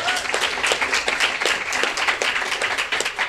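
An audience at a community gathering applauds steadily, with a dense stream of overlapping handclaps at a fairly close distance and no speech.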